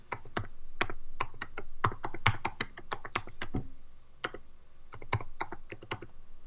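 Quick, crisp keystrokes on a computer keyboard tap out in uneven bursts with short pauses, close and clear with no talking over them.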